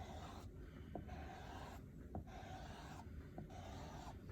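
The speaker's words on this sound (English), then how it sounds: "I'm gonna take my squeegee and I'm gonna just start pulling it, moving the chalk paste all over the words" A squeegee pulls chalk paste across a stencil on a board in three steady, raspy scraping strokes, each one ending in a short pause. The sound is close and fairly quiet, with no talking.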